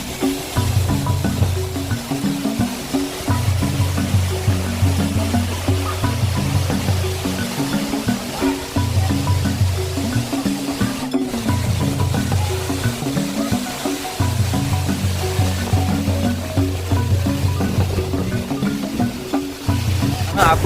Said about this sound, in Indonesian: aku udah di bawahnya pas tepat di air terjun Tretes